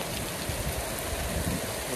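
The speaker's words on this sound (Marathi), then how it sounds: "तेव्हा कसा पाऊस पडतोय फुल जोरानं" Heavy rain falls hard and continuously, a dense, loud, even roar of water with no breaks.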